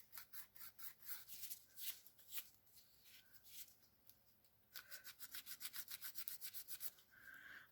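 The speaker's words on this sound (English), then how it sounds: "I don't know that I can sand that anymore." Hand sanding a small wooden piece, a close, fairly quiet rasp of back-and-forth strokes in two runs, the later run quicker and more evenly rhythmic.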